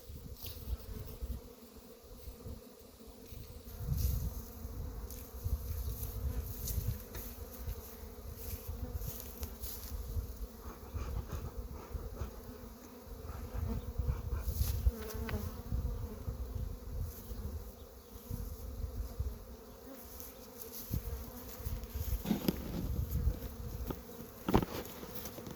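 Honey bees buzz steadily inside overwintered mini mating nucs, a dense close-up hum holding for the whole stretch while smoke is puffed over them, with occasional louder passes as individual bees fly near.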